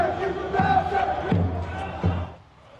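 Mauritanian football fans in national dress and flags enter a stadium for an African Cup of Nations match, a loud crowd roar with repeated rising chant-like shouts swelling in waves before fading.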